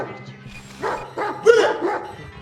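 A dog barks in a film scene during a mafia kidnapping thriller, a few loud close woofs and yips in quick succession over a low background hum.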